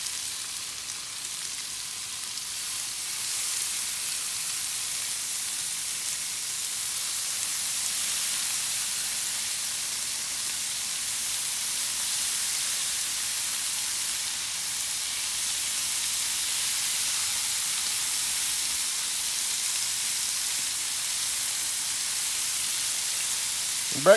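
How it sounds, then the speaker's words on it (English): Bacon strips sizzle on a hot Blackstone griddle in a soft, even, continuous hiss that barely changes for over twenty seconds, with no voices. "I'm gonna get the rest of my bacon on here."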